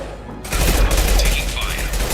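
A sudden loud barrage of gunfire in the sci-fi video game Mass Effect 2 erupts after a quiet start and keeps up a dense, continuous crackle of shots close by.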